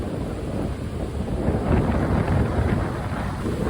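Sea waves breaking and washing up on a beach, a continuous loud roar of surf mixed with heavy wind buffeting the microphone, no voices heard.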